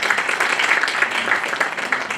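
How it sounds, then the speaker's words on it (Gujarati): An audience at a hospital health talk on jaundice applauds with fairly dense, moderately loud clapping that continues steadily throughout. "સૌપ્રથમ તો તમારા બધા માટે તાળીઓ પડી જાય."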